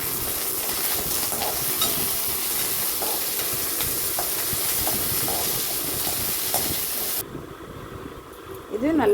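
About twenty dried red chillies and a handful of curry leaves fry in lightly heated oil for Karnataka-style bisi bele bath, giving a steady soft sizzle and hiss that cuts off near the end.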